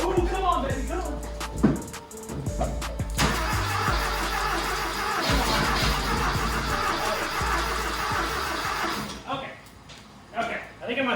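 A turbo rat rod Porsche engine cranks over on a new carburetor, then catches and runs roughly and loudly, revving unevenly before dropping off near the end, with people talking excitedly over it.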